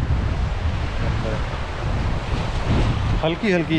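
Shallow sea waves wash onto the shore of a North Wales beach in a steady broadband rush with wind noise, while people talk over it near the end.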